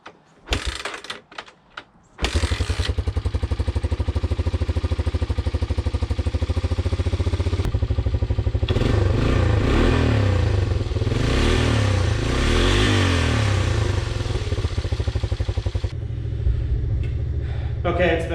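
A 1985 Honda 250SX engine is kick-started cold with the choke on: a few brief mechanical clunks, then the motor catches and settles into a loud, steady rumbling idle with rapid ticking firing pulses.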